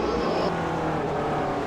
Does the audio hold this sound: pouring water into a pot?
no